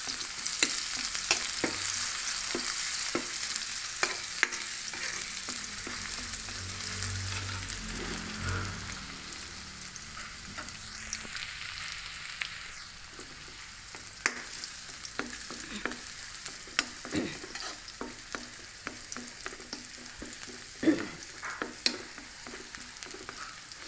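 Garlic and onion sautéing in oil in a pan for a Filipino ginisang sitaw at kalabasa, a steady close sizzle with scattered pops and occasional stirring scrapes, no voices.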